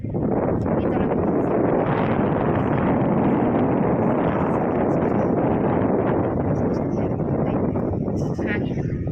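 Steady, roaring wind buffets the microphone without a break aboard a ship at sea bound for Dumaguete City, a dense rumble with rustling texture throughout.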